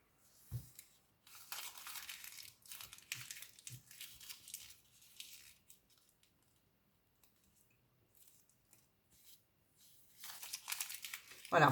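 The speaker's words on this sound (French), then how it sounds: "quand j'arrive très bien à froisser d'une seule main la petite feuille" Small sheet of paper crumpled in one hand, a series of close, dry crinkling bursts with short pauses between them and a final loud crunch at the end.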